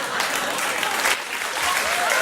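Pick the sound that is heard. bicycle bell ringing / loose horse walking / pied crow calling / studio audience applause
studio audience applause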